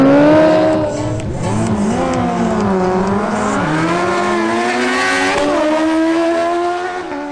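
Honda CBR1000RR and Kawasaki Ninja ZX10R sportbikes at a drag race, loud high-revving engines climbing and shifting through gears side by side, a strong continuous wail across the whole stretch with pitch dropping at each shift.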